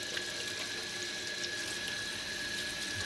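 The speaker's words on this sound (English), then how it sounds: "So I just wash it off real good." Water runs steadily from a kitchen tap while a corned beef is rinsed under it, a constant close splashing hiss with no pauses.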